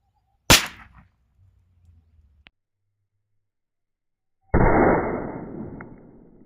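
A bidi bomb firecracker bursts beside a small motor with one sharp, loud bang that rings out briefly. After a quiet stretch, a second harsh burst of hissing noise flares up and fades slowly.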